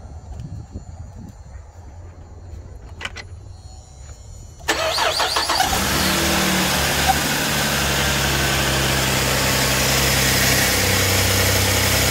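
After a few quiet seconds with faint sounds, a Cadillac engine cranks and catches after a water pump replacement, then settles into a steady, loud idle rumble close by.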